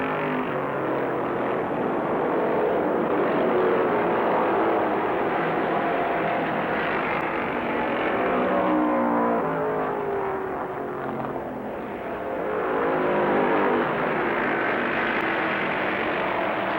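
Stock cars race at full throttle, a dense continuous roar of several engines with Bobby Allison's car leading the pack, loud and steady throughout with a brief dip as cars pass.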